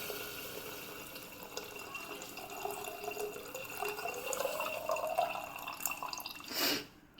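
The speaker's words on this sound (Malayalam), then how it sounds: "ഈ വെള്ളം, പുളിവെള്ളവും മുളക് പൊടിയൊക്കെ കൂടി ഇട്ട് വെച്ചിരിക്കണം, അതിനകത്തേക്ക് ഒഴിക്കുക" Tamarind water mixed with chilli powder poured into a sardine curry, a quiet trickling and dripping stream that builds over several seconds and ends in a brief louder splash.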